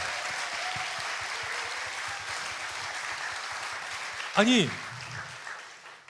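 Applause from a studio talk-show audience rolls along as a steady, moderate wash of many clapping hands, and a voice cuts in briefly near the end.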